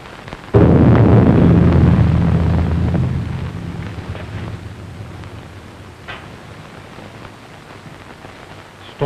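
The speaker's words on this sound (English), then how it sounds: "Storm is increasing." A thunderstorm breaks with a sudden heavy rumble that rolls on loudly, then slowly settles into a steady wash of rain and wind, with a fresh crack arriving at the very end.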